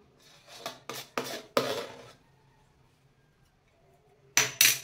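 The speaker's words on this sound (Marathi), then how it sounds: "आता ही उकड अशी चमच्याने एकत्र करायची" A spoon mixes rice-flour dough (ukad) in a pot for modak. Four quick scraping clanks come in a row, then a quiet pause, then two more sharp metallic scrapes at the end.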